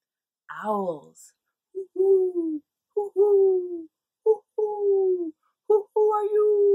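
A voice imitates owls hooting at night, giving a series of short, tonal hoots in an irregular rhythm, close and fairly loud, with silent gaps between them.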